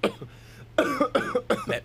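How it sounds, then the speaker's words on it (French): A man coughs in a bout of rough, throaty bursts, a few softer ones at first and then a louder, rapid run close to the microphone, with no talking. "Je tousse."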